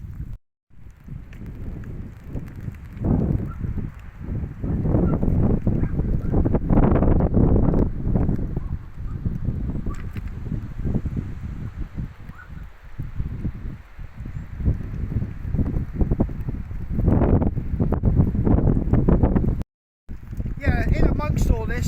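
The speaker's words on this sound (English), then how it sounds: "It's quite blowy. It's not actually stormy, but it's not pleasant weather, so it's going to be extremely windy." Strong, gusty wind on the coast while seaweed is gathered, heavy buffeting roar rising and falling through most of the stretch, with a brief dropout near the end.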